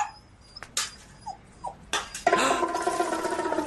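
A dog in a comedy film scene gives short high whimpers and yelps, a few quick cries, followed by a louder burst of mixed noise with some shrill tones near the end.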